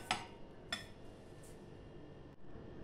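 A spoon clinks against a bowl while mixed vegetables for patties are stirred together with salt, giving a couple of faint metallic taps over quiet background noise.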